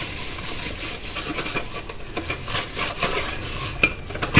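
A steel bowl is scrubbed clean by hand in a kitchen, close scratchy rubbing with light metallic clinks, steady throughout.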